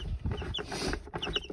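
Very active chicks in a heated brooder cluck and peep close by in quick, overlapping bursts, fairly quiet, with faint scuffling movement and no talk.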